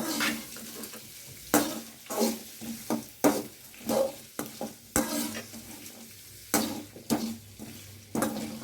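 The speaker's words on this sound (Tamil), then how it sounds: "நல்லா வதக்கிக்கலாம்" Pepper chicken masala with dried red chillies and whole garam masala sautés in a pan: a steady sizzle broken by frequent sharp spatula scrapes and knocks against the pan, close and with no talking.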